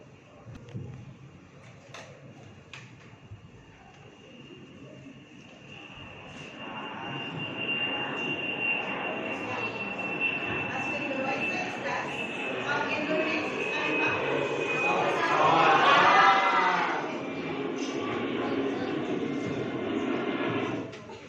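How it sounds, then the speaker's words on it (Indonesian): Airplane engine noise, a steady roar with a high whine that builds and swells toward a loud peak before easing slightly, heard under a person talking. "Itu adalah suara pesawat ya."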